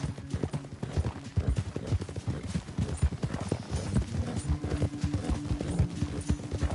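Horse hooves clip-clop in a fast, steady rhythm, close and fairly loud, in a Western video game, with faint snorts from the horse and no talking.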